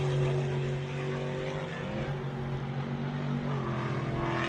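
An off-road 4x4 race engine at the MetalCloak Stampede drones loud and steady, its pitch sliding down and back up as the vehicle launches over jumps.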